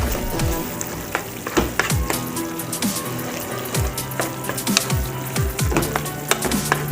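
White macaroni pasta with burger cheese and cauliflower is stirred in a pan, giving sizzling, frying hiss with repeated scraping knocks of the spoon throughout.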